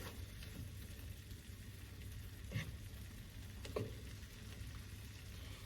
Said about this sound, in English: we're gonna let that lemon juice saute all the way in here